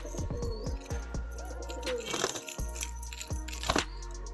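Andra pigeons coo in low, rolling calls near and far, with wing flutters and background bustle as people talk nearby.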